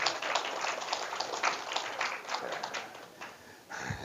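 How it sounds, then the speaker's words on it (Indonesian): Audience applause in a lecture hall, dense steady clapping from many hands filling the room for several seconds. "Tepuk tangan untuk Mas Faisal."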